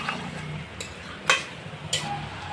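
Chicken for doi chicken sautéing in a pan, with a steady soft sizzle broken by a few sharp scrapes and clacks of a spatula stirring the meat.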